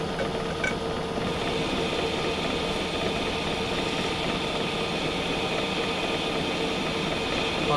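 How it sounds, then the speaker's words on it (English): A metal lathe takes a heavy cut while single point threading for a hydraulic press build, producing a continuous, steady mechanical drone and grinding hum at constant loudness throughout. "Machine is quite happy doing heavy cuts on this gear setting"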